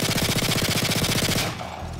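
Rapid automatic gunfire from a gun in the Call of Duty Modern Warfare 3 campaign rattles off in a fast, even burst of loud shots for about a second and a half, then cuts off.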